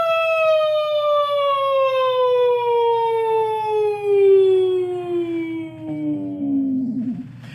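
A voice imitates a siren with one long, steady wail that slowly glides downward in pitch, loud and alone, in a singing exercise.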